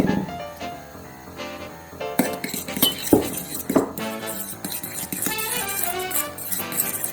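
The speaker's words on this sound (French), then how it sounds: "Et je mélange aussi avec le parmesan." Egg, parmesan and black pepper whisked in a bowl for carbonara, with repeated clinks and scrapes of utensil against the bowl, irregular and close, against faint background music.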